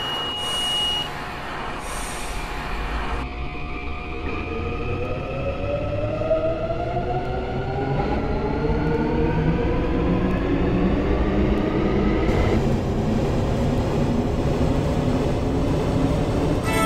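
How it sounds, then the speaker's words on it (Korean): An Incheon Line 1 subway train pulls away in the Hmmsim2 train simulator game, its motor whine rising steadily in pitch as it picks up speed over a continuous rumble of wheels on track, after a short buzzer tone at the start. "열차 출발합니다."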